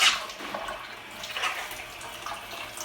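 Water starts to run from taps in a cottage under renovation. A hissing gush opens loudly, then settles into a steady, uneven stream of splashing and sputtering.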